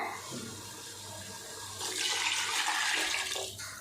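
Water gushes and splashes into a cooking pot of rice for biryani for a couple of seconds, a steady pouring rush that swells and then tapers off.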